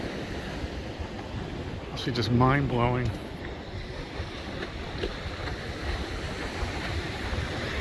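Ocean surf at Venice Beach pier, California, rolls on as a steady broadband wash with wind buffeting, while someone talks briefly over it around the middle.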